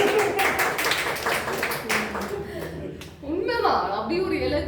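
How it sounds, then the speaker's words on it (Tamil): An audience at a student debate claps in a short burst that fades within a few seconds, followed by voices and a rising tonal sound, with talk and some chuckling mixed in. "கைத்தட்டுங்க."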